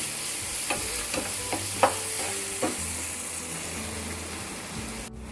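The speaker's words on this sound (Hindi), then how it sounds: "इसी भी अच्छे से चला लेंगे हम सब मसालों के साथ" A spoon stirs bread upma with black pepper and spices in a sizzling pan, giving a few scraping knocks over a constant frying hiss, close up and without talk.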